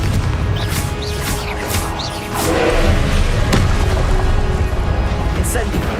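Explosive Confringo spell blasts in Hogwarts Legacy, a loud booming roar with a dense rumble and a sharp crack partway through, under shouted spell incantations.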